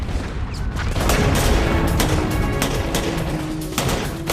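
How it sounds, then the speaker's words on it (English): Dense, continuous gunfire with overlapping shots and booming reports, loud and sustained throughout with no pauses. "Responding to the gunfire was 27-year-old platoon leader Brian Bell"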